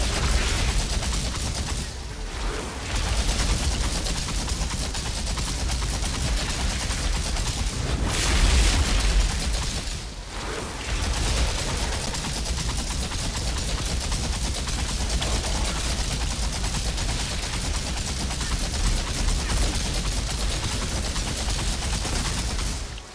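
Dense, continuous gunfire and booming blasts from the shooter game Outriders, a loud sustained barrage with brief pauses around the middle.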